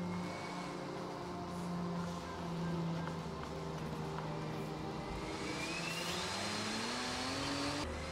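A BMW E36 M3 tuned for highway runs in Forza Horizon 2 drones steadily under load, its engine note holding and then rising in pitch as it pulls, loud and continuous throughout with no talking.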